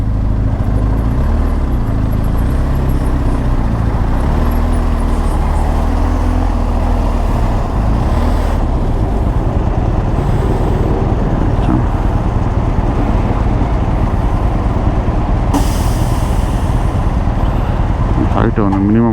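Road traffic in Panama rumbles continuously close by, with engine drone from cars, trucks and buses, passing vehicles and a brief hiss of noise near the end, loud throughout.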